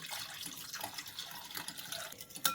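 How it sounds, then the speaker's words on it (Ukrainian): Cold water, 250 ml, pours onto egg yolks in a bowl while dough is being made, giving a soft, steady splashing trickle that is fairly quiet and close. "а також виливаємо 250 мл холодної води"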